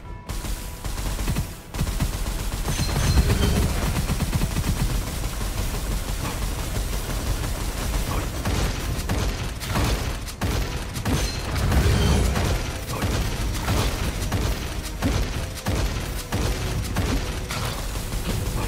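Rapid gunfire bursts and weapon mechanism clicks from the shooter game Gunfire Reborn, played on Nightmare difficulty, rattle loudly and almost continuously, with dense fusillade stretches and brief gaps.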